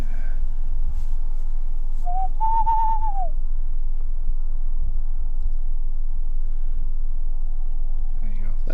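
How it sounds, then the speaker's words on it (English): A single brief wavering hoot, like an owl call, rises and falls once over a steady low rumble inside a cavern, with nothing else distinct before or after. "It's an owl. it's an owl."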